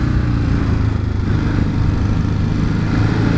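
A Ducati Hypermotard 939 SP motorcycle being ridden, its engine a steady, loud, low drone that holds an even pitch and level throughout, overlaid with a wind-buffeted rush and no talking.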